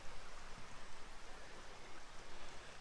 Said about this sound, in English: We got a nice little creek.